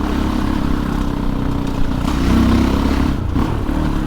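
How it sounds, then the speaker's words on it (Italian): A Fantic Caballero 500 Rally motorcycle's exhaust barks loud and close as it accelerates through a village near Spoleto, with a throaty mid-range drone and a rising rev near the middle. "Il rumore di scarico non me lo ricordavo così gasante con la 500 standard."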